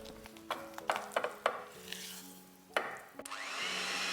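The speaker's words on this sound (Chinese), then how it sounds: "中速打发，直到黄油的颜色变成浅米色，体积也膨胀起来。" An electric hand mixer whips butter for chocolate butter cookies at medium speed, starting after a few scraping knocks against the bowl and then holding a steady whirring drone, close and moderately quiet.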